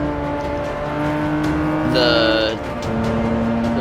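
Forza 6 race car engine drones loudly and steadily, then pitch shifts sharply as the car brakes and accelerates again, with a brief higher whine partway through; a voice speaks briefly over it.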